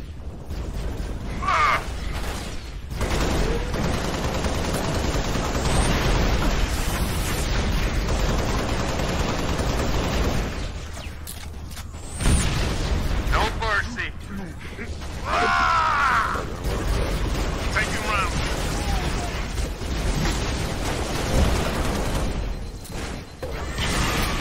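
Heavy gunfire in a Halo Reach campaign battle, dense and continuous with brief lulls, layered with mechanical clanks and occasional talking.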